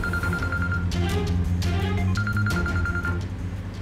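A telephone rings in a television drama scene, giving repeated electronic ring bursts in two groups separated by a short gap, over low background music.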